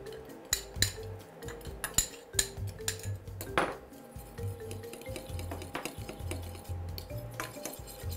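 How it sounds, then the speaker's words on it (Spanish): Cornstarch stirred into cold milk in a bowl, a series of close, sharp clinks and taps of a utensil against the dish, irregular at first then settling into a steadier rhythm. "voy a mezclar la maicena con la leche fría"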